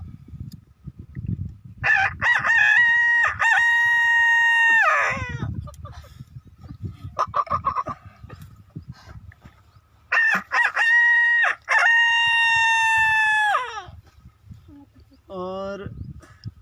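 A voice imitates a rooster crowing at dawn, two long drawn-out crows with a rising start and falling end, separated by pauses and low background noise, then a short third attempt.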